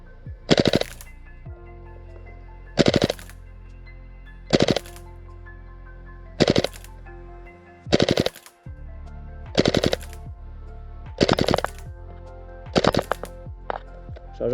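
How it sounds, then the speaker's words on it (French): An airsoft SCAR-H gas blowback rifle fires on full auto in eight short, sharp bursts at roughly even intervals, each a loud rapid rattle of shots with brief gaps of quiet in between, and no voices. "Test en full avec la SCAR."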